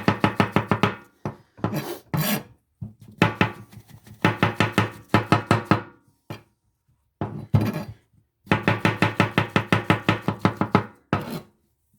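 Large mushrooms are chopped with a knife on a board, with quick rhythmic bursts of crisp blade taps in several runs separated by short pauses, close and clear with no talking.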